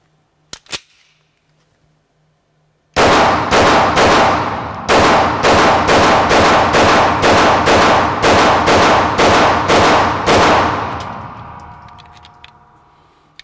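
An S&W Equalizer pistol fired at a shooting range: after a couple of faint clicks, about a dozen loud, sharp reports in a quick, steady string, with a short pause after the first shot and a ringing echo trailing off at the end.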